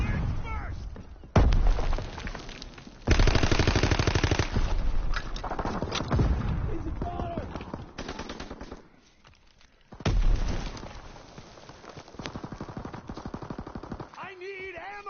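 Sustained machine-gun fire in the video game Call of Duty WW2, loud and close, rattling in long bursts with brief pauses, with talk underneath.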